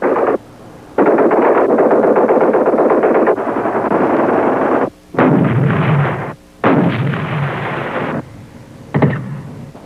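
Artillery fire rumbles loudly in long, sustained bursts of booming and crackling, broken by a few brief pauses, with heavy reports echoing throughout.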